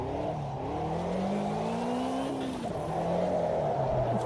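A Lotus race car engine in the Automobilista 2 racing game drones steadily, with its pitch rising as the car accelerates and a brief dip partway through, heard close and continuous without talk.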